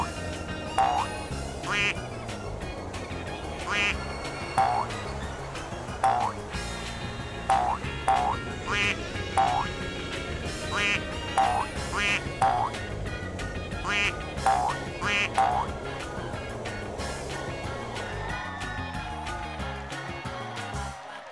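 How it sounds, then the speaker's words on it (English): A duck quacking sound effect plays in a repeated run of short, bright quacks at a steady rhythm over background music in a children's program. "Quack, quack, quack, quack, quack."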